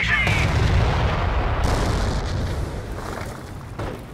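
Continuous booming artillery and gunfire rumble through a Company of Heroes (2006) skirmish between Panzer Elite and US forces on Langres, loud and dense, easing slightly toward the end.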